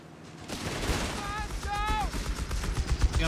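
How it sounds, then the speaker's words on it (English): Machine gun fire in the Company of Heroes 3 strategy game rattles steadily through a dense battle mix of layered gunfire and tonal effects, rising toward the end, with a voice talking over it. "German force going ahead in big block formation, caught in the machine gun"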